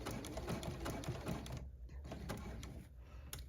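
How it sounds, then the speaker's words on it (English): Sewing machine stitching satin binding onto a stretch fleece blanket topper, running over a fold at a corner: a steady, fast, close mechanical whir with a couple of short pauses and restarts. "Sewing over that fold to get the nice neat corner."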